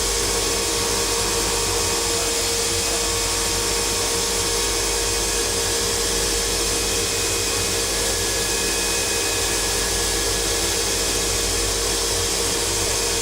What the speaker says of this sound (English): the high-precision grinding spindle starts rough grinding the flanks of the teeth using a profiled grinding wheel